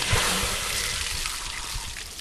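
Water sprays out of travel trailer heater plumbing during winterizing, a steady hiss with a faint trickle running close by.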